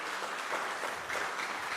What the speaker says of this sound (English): let's give another applause for Dr.